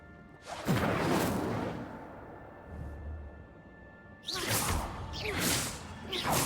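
Incendio fire spell cast in Hogwarts Legacy, heard as loud whooshing bursts of flame: one long blast, a quieter stretch, then two more surging rushes near the end.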